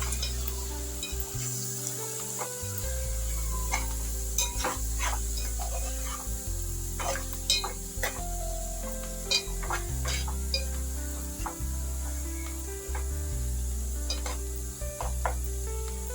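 Okra curry with chili powder, cumin powder, salt and coriander powder sizzles in a pan under repeated stirring scrapes, a steady frying hiss with small clinks.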